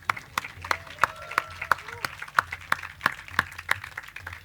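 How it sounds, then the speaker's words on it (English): Small, sparse applause from a modest audience at a psytrance festival media talk; a few hands clap in an uneven rhythm of distinct, fairly close claps. "Maybe you give everybody a small applause again to be here."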